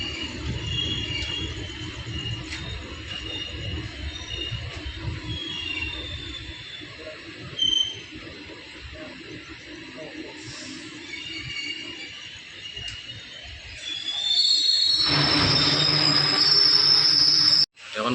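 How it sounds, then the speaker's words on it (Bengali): At night, a passenger train pulls out of Badarpur station with a steady low rumble of wheels and carriages, then a loud, shrill high squeal or horn blast near the end. "ওই যে ট্রেন ছাড়তে দেখা যাক জাস্ট নাও ছাড়ছে"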